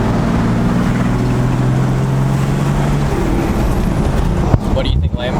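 Toyota Landcruiser 1HDT turbo diesel with a 3-inch straight-pipe exhaust, a steady deep droning rumble heard from outside that holds even for several seconds before roughening, with people talking nearby.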